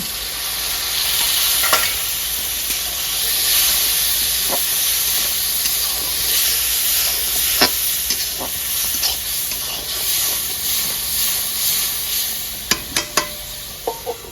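A spice mixture for chicken kosha fries in a pan, with a loud continuous sizzle and hiss, broken by a series of sharp scraping and clinking stirring strokes that grow denser toward the end.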